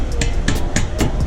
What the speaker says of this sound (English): I'll just take my rubber mallet, boom